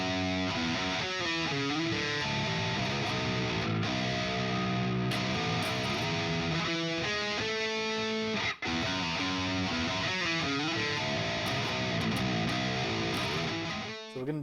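Distorted electric guitar plays a riff: a dense, continuous run of chugging, shifting notes with a brief dip partway through, with no voices.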